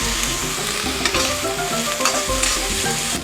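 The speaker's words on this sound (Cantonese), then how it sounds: "加入魚蝦仔炒香佢，" Small fish and shrimp tossed in a hot wok with ginger, scallion and garlic give a dense, loud sizzle broken by rhythmic spatula scrapes and stirring strokes. No talking.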